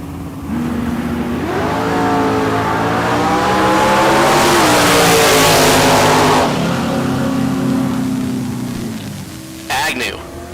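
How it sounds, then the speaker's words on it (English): A 1976 Camaro and a Chevelle launch side by side at a bracket drag race in Albuquerque, New Mexico, their loud V8 engines roaring and climbing through the gears for several seconds as an announcer talks over them. "So Agnew left side in the Chevelle. Rife right side in the Camaro. Rife will get to lead first."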